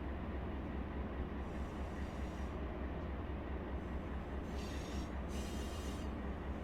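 Steady, loud rail rumble of a freight train rounding a curve in the Run8 Train Simulator game, with high metallic wheel squeal rising in bursts toward the end, no voices.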